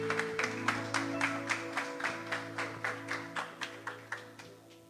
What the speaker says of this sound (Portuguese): As palmas louvam e engrandecem o nome do Senhor Jesus.